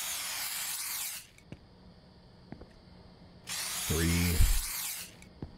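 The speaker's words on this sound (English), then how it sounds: "Is this mouse spray?" Mouse spray in a horror video game hisses in two long, loud bursts separated by a quiet pause, with a short low clatter during the second burst and a brief spoken word nearby.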